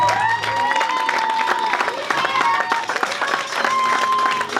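An audience at a church gathering claps and cheers in sustained, lively applause, with voices calling out and shouting over the steady patter of hands.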